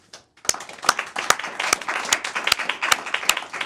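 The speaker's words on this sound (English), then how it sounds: "Get applause for that" Studio audience applause breaking out after a brief pause, starting with a few sharp claps and building into a steady, moderately loud patter of many hands.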